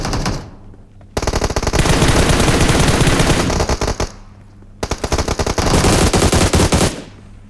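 Automatic rifle fire from the PUBG Mobile video game comes in two long, loud, close bursts of rapid shots with a short quiet gap between them.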